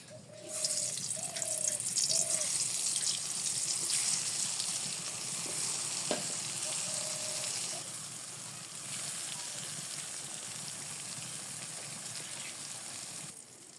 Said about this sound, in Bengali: তেল গরম হয়ে গেছে আমি বেগুন দিয়েছি